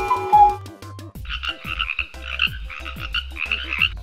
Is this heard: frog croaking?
yes